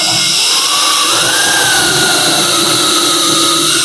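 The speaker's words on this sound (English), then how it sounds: "I'm going to drill holes in there." Power drill with a 3/8 inch plug cutter boring into wood, a loud continuous whine whose pitch dips and rises slightly as the cutter bites, heard up close with no talking.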